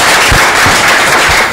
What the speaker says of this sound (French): Akossi Benjo, il faut l'applaudir beaucoup.